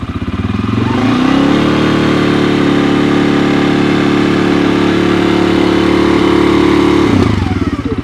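A 2022 CFMOTO CForce 600 ATV engine idles steadily up close, a loud, even low rumble with a slight rise as it settles, then dropping off near the end.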